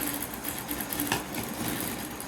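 Sewing machine running a straight seam on a folded fabric piece, a continuous close mechanical hum with fine rapid needle clatter throughout and no voices.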